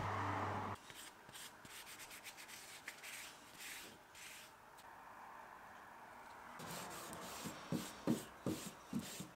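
An oil-soaked rag rubs steadily against the metal of an old hand plane in a soft, continuous scrubbing, then shifts to short, distinct back-and-forth strokes near the end.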